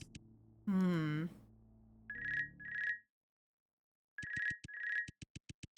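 A telephone in a video game rings in repeated electronic double trills with short pauses between them, then a quicker run of clicks at the end, mixed with a brief tonal voice-like sound early on.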